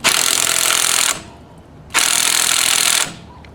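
A HYCHIKA cordless impact wrench tightening a nut gives two loud, close bursts of harsh rattling hammering, each about a second long, separated by a short pause.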